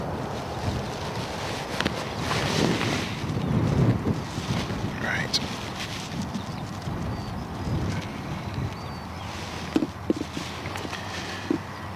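Steady crosswind buffets the microphone at Stansted Airport, a broad low rumble and whoosh that swells and eases throughout, with occasional faint voices and brief knocks near the end.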